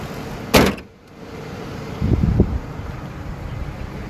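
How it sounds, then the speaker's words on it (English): Car hood slammed shut with one sharp close thud, followed by outdoor wind and a few softer knocks, no talk. "I'm gonna close the hood first."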